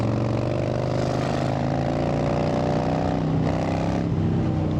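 A Harley-Davidson FXDWG motorcycle engine runs steadily and loudly up close, a deep continuous rumble with a slight change in pitch partway through, alone without talk.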